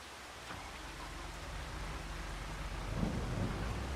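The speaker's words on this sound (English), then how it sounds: "Hope you enjoyed the rain." Steady rain and a low thunder rumble in the farming game Farming Simulator 25, a continuous wash of rainfall with deeper rolling thunder swelling near the end, no voices.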